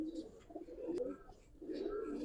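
Giribaz and coloring pigeons at a farm coo softly in a few short rounded phrases, with a faint chirp and a brief click mid-clip, close by and fairly quiet.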